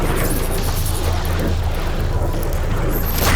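A power core blasted apart in Horizon Forbidden West Burning Shores, a steady low crashing rumble of destruction lasting a few seconds with a bright high ring near the end, no voices.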